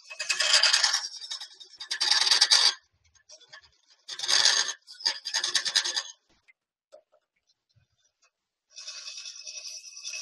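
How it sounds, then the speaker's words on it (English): Woodturning tool quickly roughing wood on a lathe: several harsh, rasping bursts of cutting a second or two long, separated by short pauses, close and fairly loud. "It's just hacking away the wood quickly."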